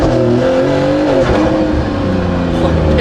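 An 800-horsepower car fitted with a Kline Fenyr Super Sport exhaust accelerates on a race track. The engine note is loud and close and climbs in pitch, broken by a brief shift dip midway.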